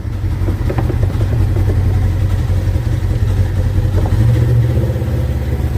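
An Aston Martin Vantage engine revs in neutral with a loud, close, low rumble that rises briefly and then settles back.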